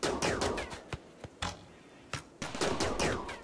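Rapid bursts of automated turret gunfire at raiders in RimWorld, loud staccato volleys that pause briefly and resume, with sharp single shots between the sustained strings.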